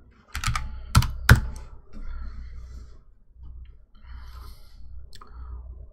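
A few sharp keystrokes on a computer keyboard near the start, followed by soft, sparse tapping and low background noise.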